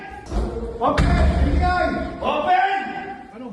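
Heavy thuds and a slam from NBI agents forcing doors open during a raid on a house in a Muntinlupa City subdivision, a few hard impacts mixed with rustling, under a narrator's voice.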